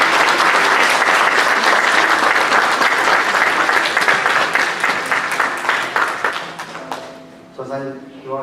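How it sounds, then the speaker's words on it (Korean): Loud, dense congregational applause at a church presentation of gifts and flowers, a full room of hands clapping that fades out after several seconds as a voice begins speaking. "우리 박수 하겠습니다"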